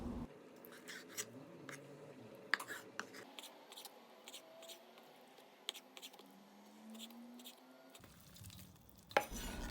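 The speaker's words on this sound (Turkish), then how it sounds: "Tavukları küp küp doğruyorum." Knife chopping chicken into cubes on a board in a steady run of sharp, close taps, with brief pauses and a louder knock near the end.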